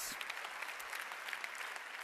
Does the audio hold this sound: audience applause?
yes